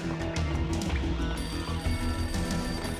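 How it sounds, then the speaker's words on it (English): A battered old phone rings in the entrance hall in the video game Max Payne, a continuous bell-like ring over dense game music and ambience, loud throughout the short stretch. "A beaten up phone in the entrance hall was ringing."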